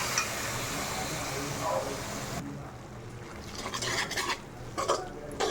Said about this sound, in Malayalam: നന്നായിട്ട് ഇളക്കി പതുക്കെ പതുക്കെ പതുക്കെ നന്നായിട്ട് ഇളക്കി നമ്മളിതൊരു ഗ്രേവി ടൈപ്പാക്കി എടുക്കും